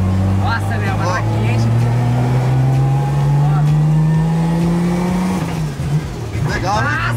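A Nissan 350Z drift car engine drones loudly with a steady rising pitch, then drops off and surges again, with people talking over it inside the car.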